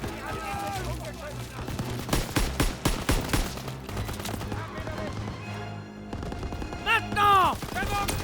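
Sustained gunfire against a German machine gun nest in a Call of Duty WWII battle, with bursts of shots and explosions through most of the stretch, mixed with shouted speech and in-game battle noise.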